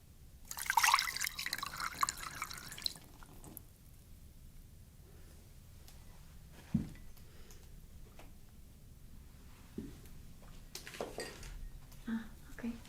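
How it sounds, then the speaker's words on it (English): Water poured from a container onto sugar for about two seconds, a bright close splashing and trickling, followed by quiet with faint clinks and taps of kitchenware. "So I just pour the water in."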